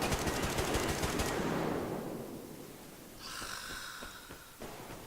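Rapid automatic gunfire crackles in a Survarium firefight, a dense burst in the first second fading into distant shots and scattered single reports, with a faint high whine in the background.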